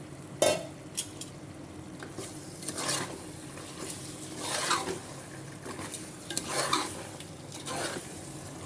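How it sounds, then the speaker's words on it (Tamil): Chicken pieces with yogurt and chilli powder sautéing in oil for seeraga samba chicken biryani, an even low sizzle overlaid with repeated scraping stirs and light clinks of a ladle against the pot, no talk. "இப்போ வந்து கறியை சேர்த்து எண்ணெயிலே வந்து ஒரு அஞ்சு நிமிஷம் நல்லா வதக்கிக்கலாம்"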